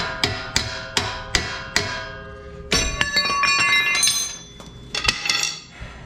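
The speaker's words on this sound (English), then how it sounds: "you can hammer it through" Sharp hammer blows ring out on a metal part of a dual steering stabilizer, a steady series of about six strikes followed by clanking, rattling metal and a few more hits.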